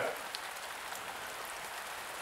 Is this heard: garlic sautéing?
no